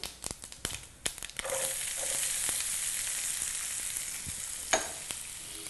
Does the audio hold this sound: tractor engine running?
no